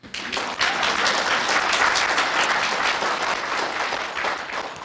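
An audience at a Buddhist dharma gathering at a temple in Santa Ana breaks into applause, a dense wash of clapping that swells quickly and holds loud to the end.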